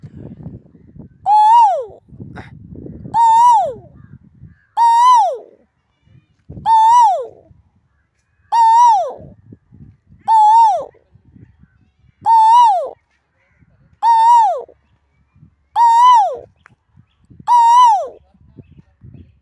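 A man mimics the Asian koel's call with his mouth, giving ten evenly spaced rising-then-falling whistled notes about two seconds apart, loud and close, with faint background noise between them.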